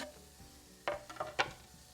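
Chopped onion sizzles in a tablespoon of oil in a pan, a soft, steady hiss that flares into a few brighter crackling bursts as the pieces hit the hot oil and get stirred.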